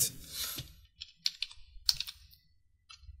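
Someone types Arabic text on a computer keyboard, producing quiet, irregular bursts of close keystroke clicks separated by short pauses.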